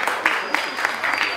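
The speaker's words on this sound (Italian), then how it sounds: "Un applauso, grazie" Audience applause at a fashion and art event in Milan, a short burst of clapping with a few sharper accented claps rising above the steady patter.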